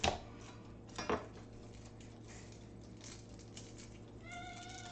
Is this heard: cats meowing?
yes